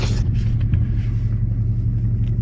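A pickup truck drives along with a steady low engine rumble and road noise, heard from inside the cab.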